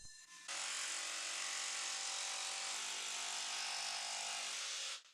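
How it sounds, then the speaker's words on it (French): Jigsaw cutting through MDF board while finishing a curved cut on a sign panel, a steady high buzzing whine running continuously for several seconds before stopping abruptly, close and alone with no talking. "j'ai fini avec la scie sauteuse."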